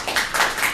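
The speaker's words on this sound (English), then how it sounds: "Can I please request to hold the applause?" Short burst of clapping from a small audience at a Paris city council meeting, fairly close and steady for under a second.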